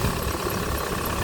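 A Hyundai iLoad D4CB diesel engine idling, a brief, steady, close rumble with a faint rhythmic clatter and no talking.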